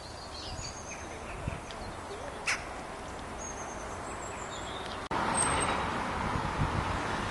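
Birds perched on chimneys at the end of September, calling faintly in short sparse bursts over a steady wash of road traffic that swells louder partway through.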